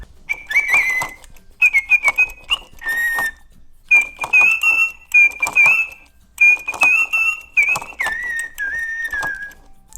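A Little Live Pets Lil Birds toy bird whistles a tune in a series of bright, warbling phrases separated by short pauses, loud and close.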